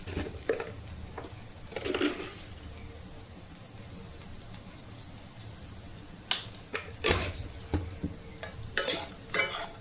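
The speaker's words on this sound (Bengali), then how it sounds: "চিনি নুন দুটোই দেওয়া হয়ে গেছে, একটুখানি নাড়বো।" Carrot pulao is stirred in a pan with close, irregular scrapes and taps of a spoon over a low, steady sizzle. The bursts of stirring come at the start and again near the end.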